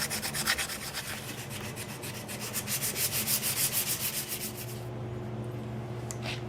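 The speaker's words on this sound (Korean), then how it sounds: "연마가 끝나면 손사포 작업이 진행됩니다." A copper-and-steel knife blade is hand sanded with sandpaper in close, rhythmic back-and-forth strokes that rasp for several seconds, then stop, leaving a quiet hum and a faint tap.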